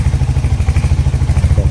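Royal Enfield Hunter 350 motorcycle riding, its single-cylinder engine throbbing in a steady, rapid low pulse with some clatter, close and fairly loud throughout.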